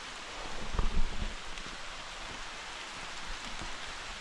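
Rain falls steadily on a mountain hiking trail on Mt. Pico de Loro, a constant close hiss of drops on leaves and ground, with a brief louder patter of heavier drops near the start.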